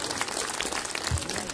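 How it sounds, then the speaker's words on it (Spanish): A rodeo (jaripeo) crowd claps in a brief, faint burst of dense applause. "Regálele el aplauso"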